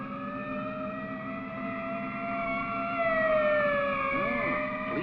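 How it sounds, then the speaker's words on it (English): A police ambulance siren wails steadily from a 1949 film scene, its long rising and falling tones swelling slightly louder midway through, with no talking. "Police ambulance and everything."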